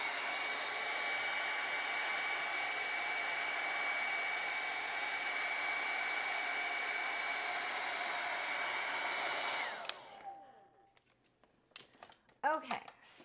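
A hair dryer blows a steady, loud whoosh over wet acrylic paint on a lake landscape painting for about ten seconds, then clicks off, followed by a few faint handling sounds.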